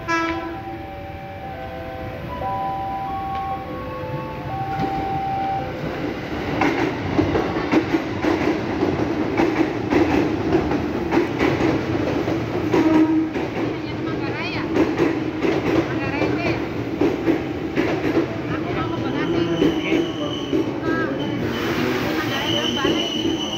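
A commuter train bound for Manggarai rolls into a Jakarta station on track 2 with a deep rumble and screeching wheels; an announcement chime sounds at the start and voices murmur nearby.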